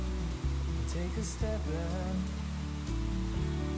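Huai Mae Khamin waterfall in Kanchanaburi pours in a steady, dense rush of water, a constant broadband roar that holds evenly throughout with a few faint tonal sounds over it.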